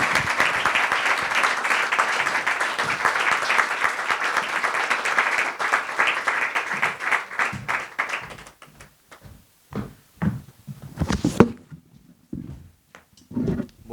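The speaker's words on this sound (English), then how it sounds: "Please welcome them with a big applause." A large audience applauds guests arriving on stage at a literary evening with Lila Azam Zanganeh: dense, steady clapping for about eight seconds, then thinning into scattered, separate claps that trail off.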